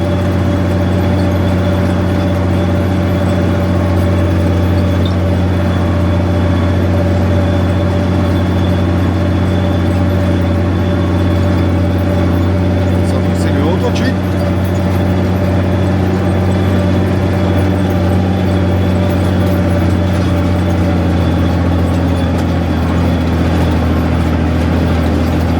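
A warmed-up ZTS 16245 tractor engine idles steadily, a constant low drone with a deep even hum that holds unchanged throughout, near and fairly loud with no speech.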